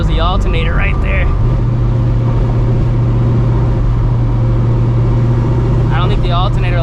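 A 600 hp Procharged New Edge Mustang GT under a hard pull to 6,500 RPM gives a loud, sustained engine roar with a rising supercharger whine. Brief voices are heard at the start and end.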